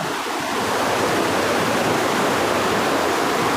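Loud, steady rush of fast-flowing flood water churning through a forest stream, a continuous roar with no pauses.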